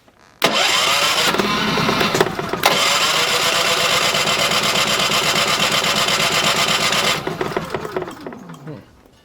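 Champion 3400-watt dual fuel generator engine cranking and starting, a loud abrupt mechanical clatter that catches and runs with a rough, steady buzzing drone, then winds down with a falling pitch near the end.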